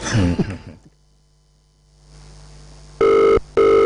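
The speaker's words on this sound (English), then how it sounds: "Olumide, why you dey answer the phone now?" After a brief burst of voices and a quiet pause, a telephone rings loudly and close by, two strong electronic ring bursts separated by a short gap.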